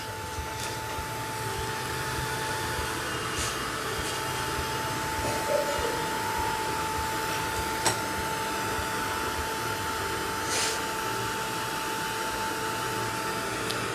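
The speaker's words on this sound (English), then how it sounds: "now I'm going to use my heat gun here" A heat gun blows steadily to dry wet chalk and acrylic paint, a continuous broadband whoosh with a thin tonal whine that holds at an even level throughout, with no talking.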